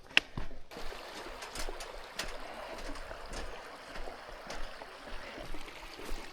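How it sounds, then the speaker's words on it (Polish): A small ice-cold mountain stream trickles and rushes steadily on the Kungsleden trail, broken by occasional soft knocks and taps, fairly faint and with no voices. "No tu wszędzie płynie rzeczka."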